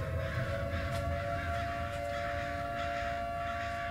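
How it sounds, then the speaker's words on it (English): An air-raid style siren wailing in the video game Ghost Bustin' Summer of '58, a sustained steady tone over a rumbling low background, loud and continuous for the whole stretch. "Why is there siren going off?"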